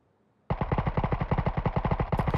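A big gun in a shooter game fires a rapid, steady automatic burst of about twenty evenly spaced shots, loud and close after a near-silent start, with no talk over it.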